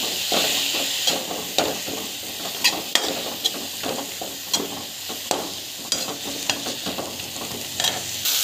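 Ingredients sauté in oil in a pan under a continuous sizzle, while a utensil knocks and scrapes against the pan in an irregular rhythm, close and clear, with nobody speaking.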